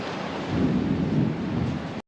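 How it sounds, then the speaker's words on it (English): Heavy rain falls steadily outside a garage during work on a Fiat 124 Spider, a dense broadband wash with a low rumble swelling midway like distant thunder, then a brief dropout near the end. "it just started raining outside"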